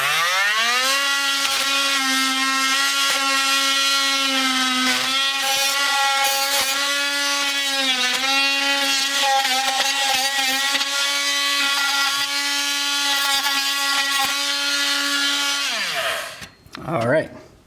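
Power tool cutting drywall around an outlet box, a steady high-pitched whine running close and loud for about sixteen seconds before cutting off into brief rattling.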